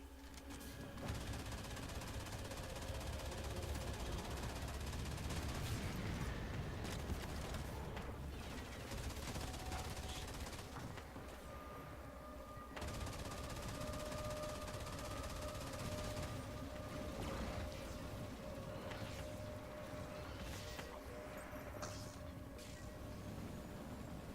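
Sustained, dense sci-fi gunfire from the video game Firefall, concentrated on an enemy generator during an incursion battle; continuous loud bursts with no pauses, layered over a rumbling game soundscape.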